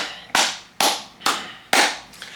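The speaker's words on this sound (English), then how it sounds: "let's just clap it up" Four sharp hand claps in a steady, evenly spaced rhythm, each crisp and fairly loud with a short ringing tail in a reverberant room, and no talking.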